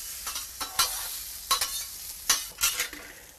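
Jalapeño slices being tossed with salt, pepper and oil, several quick rattling, scraping bursts spaced unevenly over a quiet background, close and crisp with no speech.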